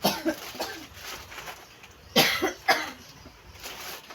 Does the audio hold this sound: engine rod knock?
no